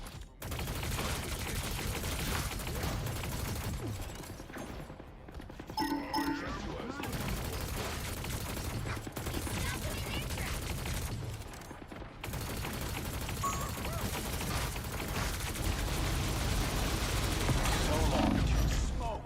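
Heavy weapon gunfire in a video game: sustained, dense automatic fire roaring continuously for long stretches, loud and close, with brief pauses and a voice talking over it at times.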